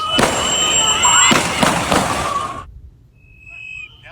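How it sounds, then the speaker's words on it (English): Border Patrol agents fire several sharp, loud gunshots in quick succession while restraining a man on the ground, with voices mixed in, then sudden near silence. "Then, shots ring out."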